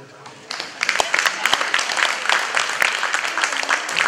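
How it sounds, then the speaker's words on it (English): At a fall cattle show, a small crowd breaks into a round of applause that starts abruptly and carries on as a moderately loud, uneven patter of scattered hands clapping, with some voices mixed in. "you can give one more, a little bit better round of applause,"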